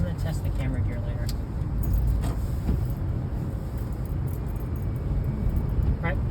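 A car being driven, heard from inside the cabin, with a steady low road rumble and light rattles and clicks throughout.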